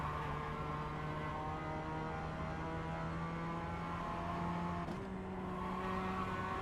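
A Mazda MX-5 race car engine drones steadily at the Nürburgring in the iRacing video game, holding a sustained, fairly constant note with a brief shift near the end, alone without talk.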